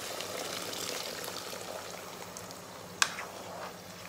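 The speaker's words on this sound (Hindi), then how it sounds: "सो अभी मैं इसमें ऐड कर दूंगी पानी।" Hot water poured into a pan of pulao on a gas stove, a steady hiss and gurgling wash throughout with a sharp clink near the end, no voices.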